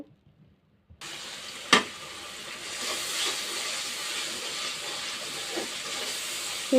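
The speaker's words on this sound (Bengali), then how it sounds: "ভালোভাবে মশলাটা কষাই নিব" Spice masala for a prawn curry with cauliflower and eggplant sizzles and fries in a pan: after a brief quiet start, a sudden loud burst, then steady close hissing and crackling with no talk.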